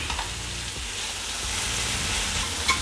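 Minced boneless chicken sautés in a pan, giving a steady close hiss of frying with a soft underlying crackle and one small clink near the end.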